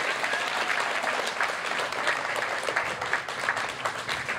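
An audience at a student concert claps for a performer walking onstage, steady moderate applause with scattered distinct hand claps lasting a few seconds, no voices over it.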